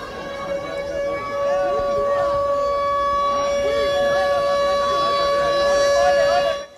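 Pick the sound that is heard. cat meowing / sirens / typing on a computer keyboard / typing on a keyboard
sirens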